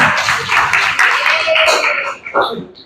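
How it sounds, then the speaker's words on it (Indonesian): Students in a middle school classroom clap together in a dense, steady burst of applause that thins out near the end, with voices mixed in. "Ya, tepuk tangan buat kalian semua."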